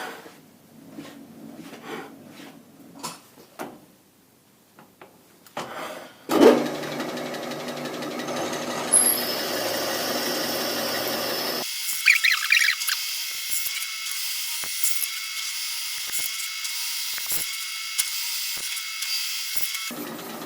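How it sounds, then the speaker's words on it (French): A machine tool cuts a small chamfer around the edge of a metal plate, a steady whirring grind that starts after some quiet clicks and handling noises, then drops to a thinner hum. "donc je vais faire un petit chanfrein tout le tour, je fais un demi-tour et je fais un chanfrein de l'autre côté"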